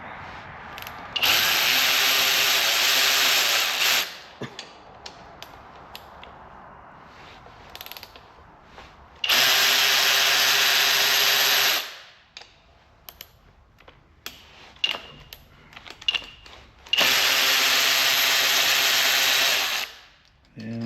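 A power tool backs bolts out of the cylinder head on a 3.5 EcoBoost engine during a rebuild, whirring in three sustained bursts of a few seconds each, separated by quieter clicks and handling noises.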